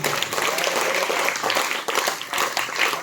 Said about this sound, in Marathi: या सगळ्यांसाठी एकदा जोरदार टाळ्या वाजवा